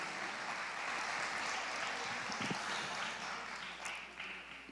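Audience applause at a Christian worship event during a testimony, a sustained wash of clapping from a large crowd holding steady for several seconds before easing slightly near the end.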